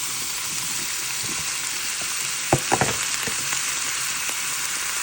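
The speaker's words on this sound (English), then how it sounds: "I'm going to add some tomato and green pepper." Tomato and green pepper sauté with onions in a hot pan for mashed plantain. A steady close sizzle runs throughout, and a brief burst of stirring clatters near the middle. No one speaks.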